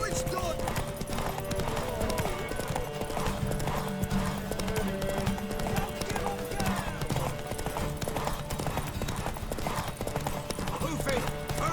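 Steady clip-clop of horse hooves in The Witcher 3: Wild Hunt, mixed into a busy game soundscape, with voices and background music playing throughout.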